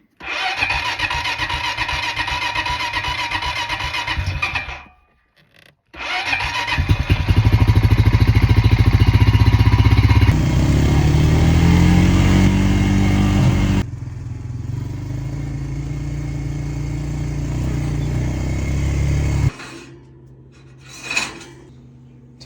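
A small gasoline engine, fuel just switched on, cranks and catches, then runs loud and steady with a rough mid-range drone, cutting out briefly before restarting and later dropping away.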